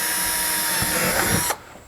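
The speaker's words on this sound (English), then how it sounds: "So the first thing we're going to do is drill the hole pattern for the Mighty Mount." A power drill whines steadily while boring a 1/4 inch hole into a boat hull for a mount, the high motor tone holding loud and close before cutting off abruptly near the end.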